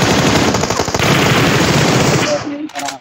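Automatic gunfire in the mobile shooter BGMI rattles in a loud, dense burst lasting over two seconds, then cuts off, leaving a player's voice speaking.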